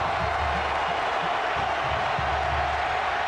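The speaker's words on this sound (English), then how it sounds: "Crowd trying to encourage that defense on 3rd and 4." Stadium crowd at a 2006 Florida vs Auburn college football game, a steady broad roar of fans urging on the defense on third down, continuous and distant-sounding with a low murmur of voices underneath.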